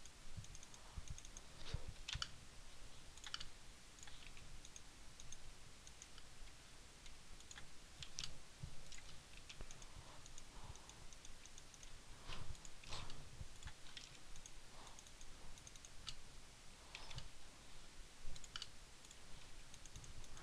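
Faint, irregular computer mouse clicks, some in quick pairs, recur over a quiet background hum while building in Valve Hammer Editor, with no talking.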